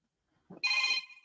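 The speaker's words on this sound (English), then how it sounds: "Like all of a sudden, there's a phone call." A telephone ringtone sounds briefly, a bright tonal chirp lasting under half a second, preceded by a soft low rustle, close and moderately loud.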